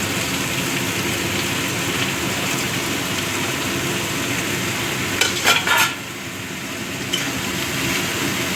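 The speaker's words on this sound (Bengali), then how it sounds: "এবার আমি গ্রেট করে রাখা ফুলকপিগুলো দিয়ে দিচ্ছি।" Grated cauliflower frying in spiced oil in a pan, a steady close sizzle with a brief burst of clattering stirring midway, no voices.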